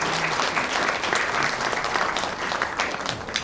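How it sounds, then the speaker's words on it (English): Audience applauding a panel at a Spain-India forum in Mumbai, steady dense clapping from many hands throughout, fairly close and continuous without letting up. "please raise your hands to give big applause to the panel"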